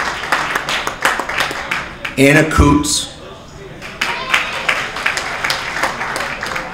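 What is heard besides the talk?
applause for volunteers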